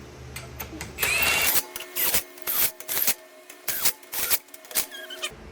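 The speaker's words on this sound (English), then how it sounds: "turn my gun down to the second setting on it, loosely tighten the wheel down" An impact gun set low loosely running lug nuts onto a 2023 Chevy Tahoe front wheel, giving a string of short loud rattling bursts with brief pauses between them, close up, with no talk.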